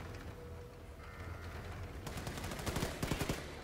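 Rapid automatic gunfire in the shooter game Wolfenstein 2, a burst of quick, sharp repeated shots building in the final seconds after quieter mechanical clatter.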